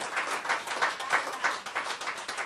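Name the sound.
congregation applause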